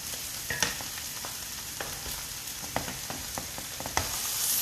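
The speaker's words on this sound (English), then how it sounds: "I am cooking kind of like a stir-fried quinoa dish. I have onions and peppers and mushrooms here on the bottom." Onions, peppers and mushrooms stir-frying in a pan for a quinoa dish, a steady close sizzle broken by scattered clicks and scrapes of a utensil, with no voices.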